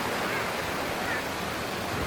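Strong ocean waves on Boracay beach break and wash in a steady, loud roar of surf with wind noise, continuous throughout with no clear separate crashes.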